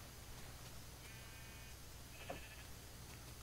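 Faint sheep bleats from the Minecraft video game, two brief calls near the middle of an otherwise quiet stretch with low background hum.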